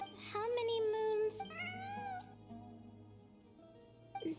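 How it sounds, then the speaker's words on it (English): A cat lets out a few drawn-out, wavering meows, loud and close at first, then fading to quieter calls, with a faint background hum. "Isn't there a cat? I'm not hearing things. It really is a cat."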